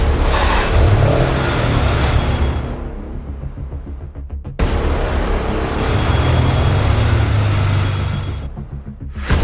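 A Ferrari 550 being driven out, its engine revving and pulling away in two loud surges, each swelling then dropping off abruptly, with a brief gap between them.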